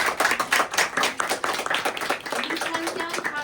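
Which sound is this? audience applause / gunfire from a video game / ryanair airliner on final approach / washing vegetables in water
audience applause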